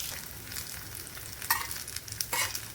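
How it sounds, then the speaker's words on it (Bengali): Potato tikkis shallow-fry in hot oil with a soft, steady sizzle, broken by a couple of sharper clicks from stirring or turning. No one speaks. "এগুলো এরকম ব্রাউনভাবে করে ভেজে নেব।"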